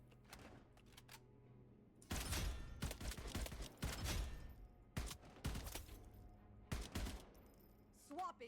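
Separate loud gunshots fired at range targets in the game Wild Assault, about half a dozen sharp reports spaced a second or so apart against quiet background, with a brief mechanical click near the end.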